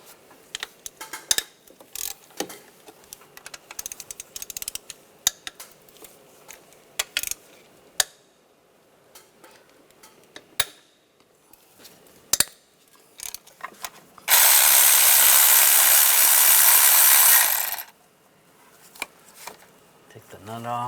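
A ratchet with a 12mm socket works the intake nuts on a 1996-2002 Toyota 4Runner, giving scattered metallic clicks and taps, then a loud steady burst of broadband noise for several seconds before the clicks resume.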